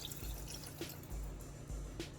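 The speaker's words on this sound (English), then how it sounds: "And I'm just going to pour water in here" Water poured into a cooking pot over pork for a Thai curry, a faint, steady liquid trickle with soft splashes and drips, heard alone without talk.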